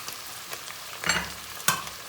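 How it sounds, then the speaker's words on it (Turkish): Oil hits cooking meat in a pot with a soft, steady sizzle and two short, louder hissing bursts partway through. "Yarım fincan sıvı yağ ilave ediyorum."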